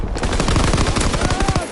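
Rapid automatic gunfire in the World War II shooter Call of Duty WW2, a dense, loud burst of closely spaced shots rattling without pause for nearly two seconds.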